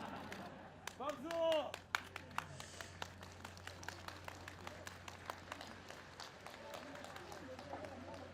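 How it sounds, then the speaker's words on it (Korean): A crowd at an outdoor homecoming welcome gathering in a village applauds, scattered sharp claps building into a run of distinct hits after a brief shout, fairly faint and somewhat distant. "박수!"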